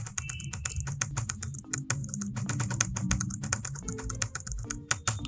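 Rapid keystrokes on a computer keyboard enter data in Tally Prime accounting software, a dense run of close, crisp clicks with short irregular gaps and a faint low hum underneath.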